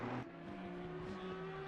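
Race car engine in Assetto Corsa Competizione GT3 racing at Zolder, pulling hard out of a chicane in low gear, a steady droning tone rising in pitch as it accelerates, loud and close, with no talk over it.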